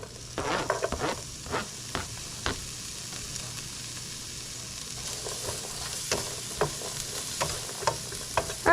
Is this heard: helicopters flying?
no